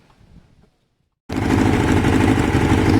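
Kawasaki ZL600 motorcycle engine running with its choke off, close and loud, a steady throbbing idle after a brief silence; the idle may be set too low.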